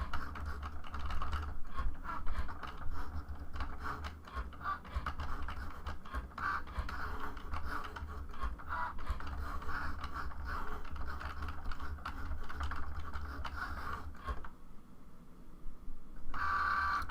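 A Cricut machine cutting card gives a quiet, continuous mechanical whir with faint rapid clicking and carriage movement, steady throughout before briefly dropping off near the end.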